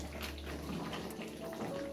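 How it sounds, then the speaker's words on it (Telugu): Water pours steadily into a pot of Telangana chicken curry on the stove, a continuous low splashing gush that is faint and heard alone. "నేను ఇప్పుడు మీకు వాటర్ పోసి చూపిస్తా."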